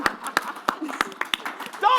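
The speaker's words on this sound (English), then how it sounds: "Don't applaud that." Scattered hand claps from a small audience at a live show at Gen Con, sparse and uneven bursts rather than full applause, with a voice starting to talk at the end.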